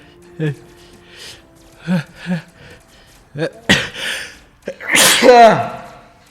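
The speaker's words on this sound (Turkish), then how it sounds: "Of hapşuruğun kurbanı oldum neyse." A person sneezes loudly at close range while playing Arena of Valor, with brief gasping breaths and short vocal sounds leading up to one strong burst near the end.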